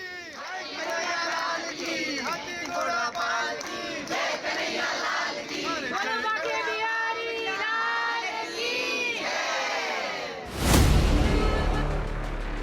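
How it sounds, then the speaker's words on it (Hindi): A huge crowd of devotees packed into Banke Bihari temple before the new year, a loud roar of many overlapping voices and shouts rising and falling, ending in a sudden louder burst. "बांके बिहारी मंदिर में नए साल से पहले जबरदस्त भीड़ है।"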